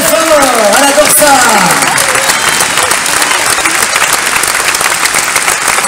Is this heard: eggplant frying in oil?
no